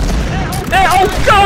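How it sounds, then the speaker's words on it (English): Incoming mortar shells boom and burst during a pirate-ship naval battle in Blackwake, a couple of loud blasts landing close together while a voice shouts over the fire. "Incoming mortars!"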